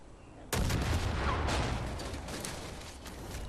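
Loud explosion in the Far Cry 5 video game, bursting in abruptly after a moment of quiet and leaving a dense, rumbling roar that lingers at high level, with crackling bursts scattered through it.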